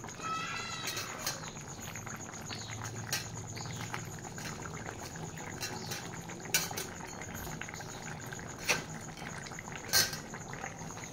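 An Assamese fish curry simmering in a pot on a home stove, a low, continuous bubbling with occasional sharp clinks of a utensil against metal, close and fairly quiet.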